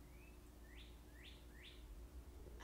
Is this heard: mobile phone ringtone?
no